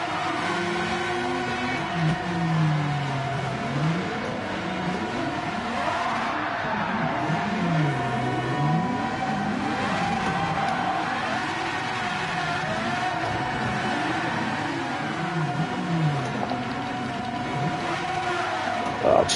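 A car in Gran Turismo 7 does a burnout on a tight start-finish straight, its engine revving steadily with wavering, rising and falling pitch and a constant tire-scrub roar, loud and continuous with no talking.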